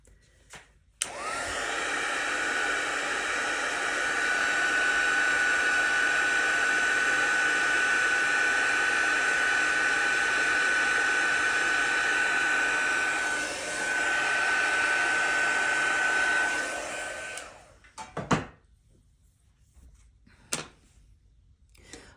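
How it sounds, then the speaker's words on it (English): A heat tool blowing on wet watercolor paint, a loud steady whirring hiss that runs for about sixteen seconds then cuts off, followed by a few faint clicks and knocks. "So I'm going to pause it and dry it with my heat tool."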